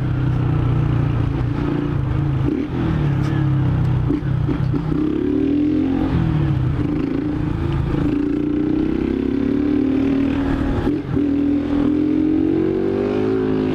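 A motorcycle engine runs close by at a steady idle, a continuous low throbbing hum with slight clatter and small pitch shifts, no voices over it.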